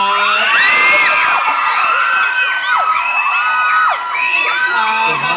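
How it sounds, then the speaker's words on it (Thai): A large crowd screams and cheers loudly and continuously, with high-pitched shrieks rising and falling throughout. "ขอเสียงกรี๊ดดังๆ"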